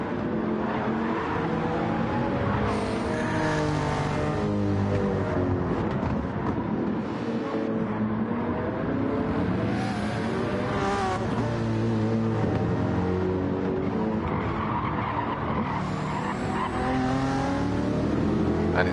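Race cars, a Honda among them alongside a McLaren, scream around Fuji in the eDTM sim racing series, engines whining continuously with pitch rising and falling through gear changes, loud and close with no voices.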